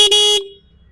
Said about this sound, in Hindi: सबसे नीचे आपको हॉर्न देखने को मिलेगा।